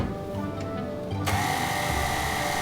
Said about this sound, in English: we'll mix together the wet and dry ingredients in the mixer